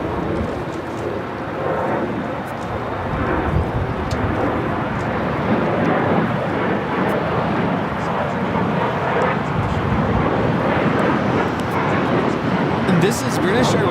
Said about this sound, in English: this is British Airways 283 coming in from London Heathrow on the 777-300ER